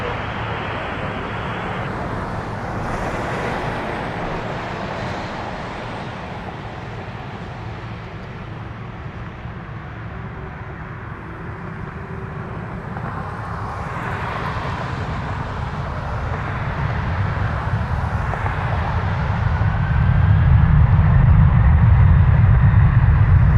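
A Lufthansa airliner takes off at Toronto Pearson airport; a broad, distant engine roar builds slowly over a long stretch and swells loudest near the end, with no voices.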